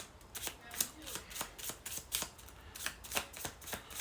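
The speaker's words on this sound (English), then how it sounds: "Jessica, let's pull a couple more cards for you though." Tarot cards are shuffled by hand in quick, regular riffling bursts, about a dozen crisp snaps over a few seconds, close by and fairly quiet.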